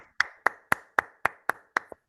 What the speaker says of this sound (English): Please unmute and give a brilliant round of applause for Ashley Edge.